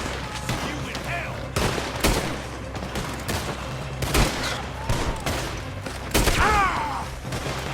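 A Red Dead Redemption 2 gunfight crackles with sharp, irregular gunshots and bursts at close range, with sudden loud cracks scattered among shouted voices and game clatter.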